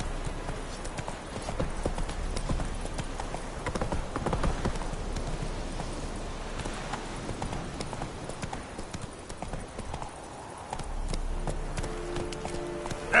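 The horse Roach gallops in The Witcher III: Wild Hunt, a dense, continuous drumming of hooves over rough ground mixed with wind and movement noise, fairly close and loud throughout.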